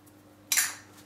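A utensil mixes flour with baking powder, ground cinnamon and salt in a bowl for carrot cake, giving one brief, bright scrape-and-clink against the bowl, close and alone in a quiet kitchen.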